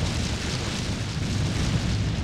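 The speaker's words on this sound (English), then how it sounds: "an explosion might be able to do this" A broad rumbling explosion in The Legend of Zelda: The Wind Waker HD, a dense sustained blast with a heavy low roar that holds at steady loudness for a couple of seconds.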